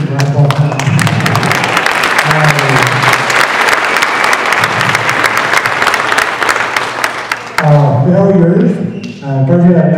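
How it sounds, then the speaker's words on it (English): A school play audience gives loud, continuous applause as the cast comes out, with clapping filling the room and a voice speaking over it at the start and again near the end. "please give them a round of applause as they come out"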